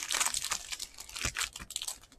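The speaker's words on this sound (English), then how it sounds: "There are six packs here. I'm going to just shuffle them around a little bit." Sealed 2021 Panini Contenders baseball hobby card packs are shuffled by hand on a table, producing close, repeated foil crinkles and rustles in irregular bursts with no talking.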